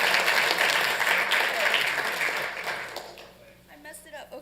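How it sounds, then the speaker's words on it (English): Dense applause fills a Santa Ana city council meeting chamber and fades after about three seconds. Voices follow. "Okay, now clap, please."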